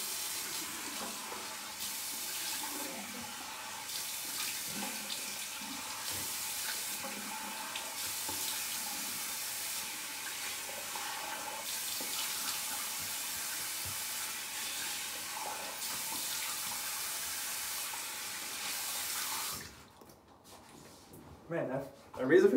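Tap water runs steadily into a sink while a GEM safety razor from 1912 is rinsed under it, a continuous hissing splash lasting most of the clip before cutting off near the end.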